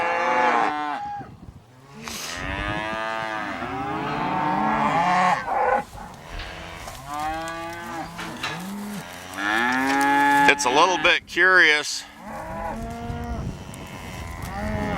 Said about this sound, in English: these cows are raising such a ruckus